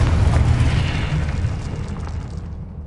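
A Confringo fire spell detonates in Hogwarts Legacy: one loud, deep boom that hits at full force right away, then rumbles and slowly fades over about three seconds.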